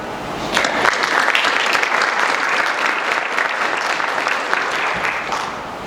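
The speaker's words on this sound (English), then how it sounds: "Let us show our appreciation with one last round of applause." An audience at a high school National Honor Society induction breaks into dense, sustained applause, many hands clapping steadily and loudly for several seconds.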